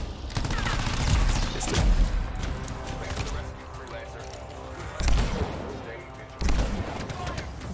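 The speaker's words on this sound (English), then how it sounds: "the last six shots that I just made on the sniper" Sniper rifle shots in the video game Anthem ring out as several loud, sharp blasts spaced irregularly, with dense game effects and a voice talking over them.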